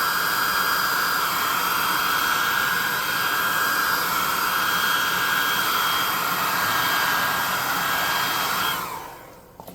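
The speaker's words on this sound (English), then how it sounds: "So Boss 2 hot air gun burning." A hot air gun blows continuously to dry paint, a loud, steady whooshing hiss close by that cuts off and winds down near the end.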